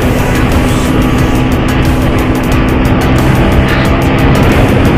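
A Yamaha MX King motorcycle fitted with 5.5 rims and a 190 tire runs at high speed on a busy road, its engine a loud, continuous drone mixed with heavy wind rush throughout.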